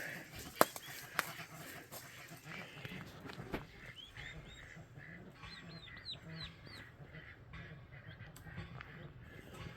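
Young turkeys free-ranging on a homestead give soft, repeated high chirping peeps in the middle distance, over a faint outdoor background with a few light knocks near the start.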